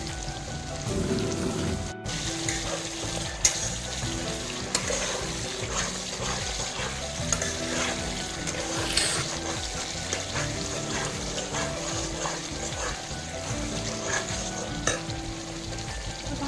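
Chicken sautéing in a pan with Kashmiri chili powder and cumin, a loud continuous sizzle with repeated stirring scrapes and clatters of the spoon, heard close and without talk.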